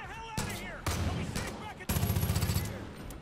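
Shotgun blasts in the Far Cry 5 video game during a church fight, several loud shots in quick succession with a rapid rattling burst near the end, heard mixed with game sounds.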